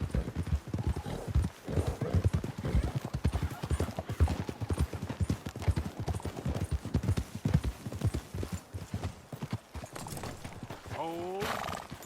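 Steady clip-clop of horse hooves at a walking pace in Red Dead Redemption 2, close and rhythmic, with a horse whinnying near the end.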